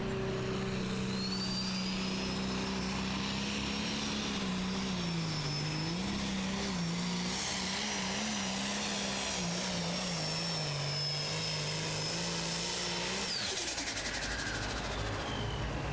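A 95 limited pro stock pulling tractor, an old International 1066, roars loud and sustained through a tractor pull run, its engine pitch wavering and climbing before cutting off near the end.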